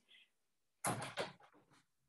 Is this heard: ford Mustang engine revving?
no